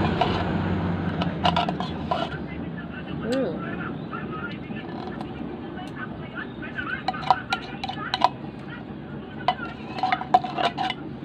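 A graham dessert mixture is stirred in a bowl, with repeated clinks and scrapes of a utensil against the bowl, sharper knocks growing toward the end, beneath a person talking.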